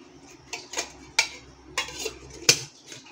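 Chicken sandwich being packed into a tiffin box, with several sharp clinks and taps of utensils and container against a kitchen surface, close and intermittent over faint background hum.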